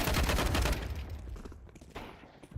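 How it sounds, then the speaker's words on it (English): A flashbang grenade detonates in a video game as a loud, dense broadband blast with crackling bursts, then fades into a decaying rumble and scattered pops over a couple of seconds. "Deploying flashbang."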